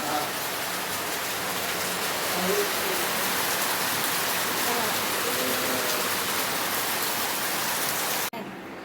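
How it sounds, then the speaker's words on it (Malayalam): Heavy rain pours steadily, a dense hiss of drops on surfaces that stays loud and unbroken before cutting off abruptly at the end. "പുറത്ത് നല്ല മഴയാണ് കേട്ടോ."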